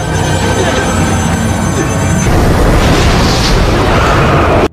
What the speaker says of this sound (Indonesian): Dengan ledakan yang sangat dahsyat tersebut